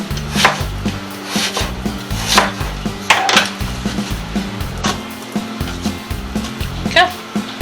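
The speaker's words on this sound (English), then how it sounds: "I got all my apples cut up" Apples being cut into slices with a knife on a board for apple streusel, a string of close, sharp chopping knocks at an uneven rhythm, with a voice talking over part of it.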